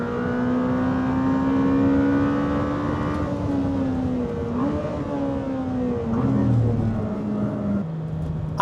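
A Lamborghini Temerario engine hums and whirs steadily at low speed while driving back into the pits, a sustained tonal drone with gentle pitch shifts, fairly close and continuous throughout.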